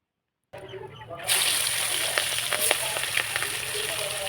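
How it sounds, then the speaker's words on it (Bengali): Laufali fish fry in oil for a village-style curry. After a brief silence a sizzle starts, then jumps louder into a dense, close crackle with scattered pops and spatters. "মাছগুলো উল্টে পাল্টে আমি ভালো করে ভেজে নেব"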